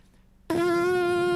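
Bare lips buzz a trumpet note with no mouthpiece, a loud raspy tone that starts abruptly after a brief quiet moment and holds steady to the end.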